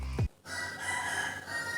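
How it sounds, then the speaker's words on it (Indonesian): A rooster crows once, near and loud, in a short burst that cuts off quickly and leaves faint background hiss, with no talking. "si ayam lagi berisik"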